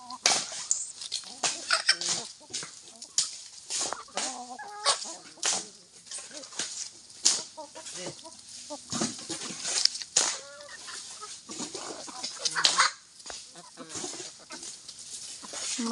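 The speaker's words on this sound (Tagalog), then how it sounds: "Kung ang tao guys nagamerienda, ang mga manok nagamerienda din." Chickens clucking and pecking while eating a snack, scattered soft clucks and sharp pecking taps throughout, close by, with a person talking over them at times.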